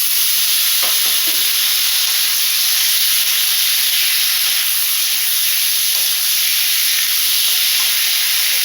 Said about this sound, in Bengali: এখন মাশরুমটা ভেজে নেব।